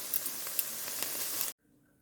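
Oil sizzles loudly and steadily in a hot pan used for cooking shrimp, a dense continuous hiss with small crackles that cuts off abruptly into near silence.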